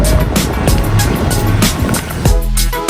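A modified MK7 Volkswagen Golf R with its stock catalytic converter and a resonator delete passes outdoors, giving a loud, steady broadband rush that turns into a tonal exhaust drone near the end.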